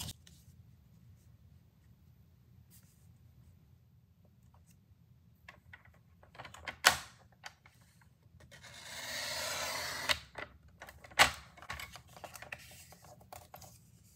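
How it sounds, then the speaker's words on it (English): Paper being sliced with a trimmer or blade from the top corner down to a marked point while crafting a coffee cup gift card holder, a soft continuous rasping cut lasting about a second between sharp taps and handling noises. "I want to make a cut from this top corner down to the mark that I just made."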